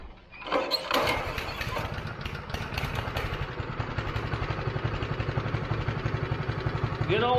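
A Honda engine on a plate compactor cranks, catches and settles into a steady, loud, chugging idle, close by, while a construction shop floor is prepared for a concrete pour.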